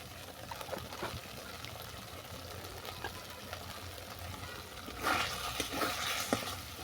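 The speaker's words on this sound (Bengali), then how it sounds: "এটাকে ভালো করে মিশিয়ে নেবো" Potol curry with chopped coriander, slit green chillies and a little ghee is stirred in a pan, giving soft scraping and a low sizzle that grows busier toward the end.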